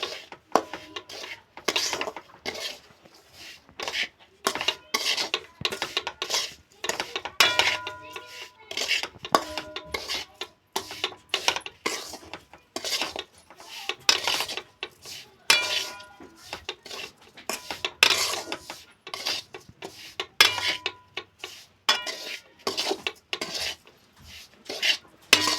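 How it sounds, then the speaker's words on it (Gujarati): A spoon scrapes and clinks against a pan as semolina is stirred and roasted in hot ghee for rava pak, in a steady rhythm of metallic scrapes with short pauses and no talking. "ઘી અને રવો બે મિક્સ કરી અને સારી રીતે શેકી લેવું"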